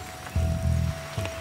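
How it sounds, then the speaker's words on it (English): Rain falls on a shelter of shrinking leaves at a camp: a steady wet hiss with heavy low thumps and gusty rumbles in bursts. "Here comes the rain. It just keeps getting worse and worse."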